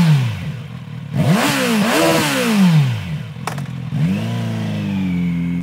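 A Kawasaki Z900RS SE motorcycle engine revs hard several times, its pitch rising and falling in loud, close blips with clattery mechanical texture and no talk.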